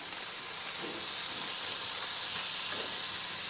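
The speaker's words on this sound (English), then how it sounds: "we want to brown our meat, and so we're going to start with this mild ground pork sausage" Mild ground pork sausage browning in a pan gives a steady, close, even sizzling hiss that runs unbroken throughout.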